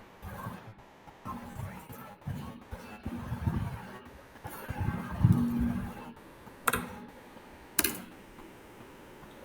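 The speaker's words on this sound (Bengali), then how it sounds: "হ্যাঁ, এন্টার মারো, এন্টার এন্টার মারো।" Keys clack on a computer keyboard with a few sharper presses of the enter key, faint and irregular, alongside low background room noise.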